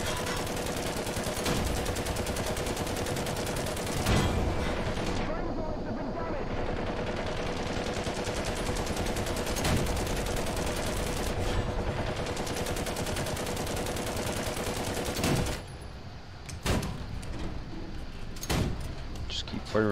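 Tank cannons firing in the War Thunder ground-forces tank game, with British tanks battling a Crusader: several sharp, loud booms spaced apart over a constant engine rumble and battle noise, with a voice talking at times.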